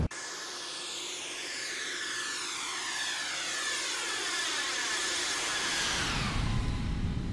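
X-Craft E-190 jet engines in a flight simulator game flyby, a loud continuous turbine roar with a high whine that sweeps and shifts as the aircraft passes close, rising toward the end.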